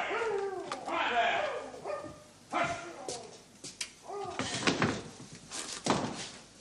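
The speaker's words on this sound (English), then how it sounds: "Was it the dog?" A farm dog barks several times in sharp, loud bursts, with a whimper and a door bang mixed in, while people talk around it.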